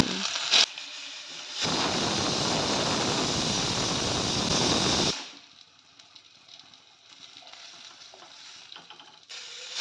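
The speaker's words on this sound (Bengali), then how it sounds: "কড়াইতে তেল গরম করে নিয়েছি আলুগুলো ভাজার জন্য।" Potatoes dropping into hot oil in a wok, a loud dense crackling sizzle lasting a few seconds that then drops to a softer, quieter bubbling fry.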